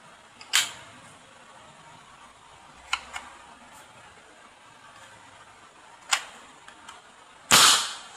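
An AR-15-style butane-powered multishot gun firing 8mm steel balls snaps off four sharp, separate shots spread across a quiet background, the last one louder and longer, with no voices.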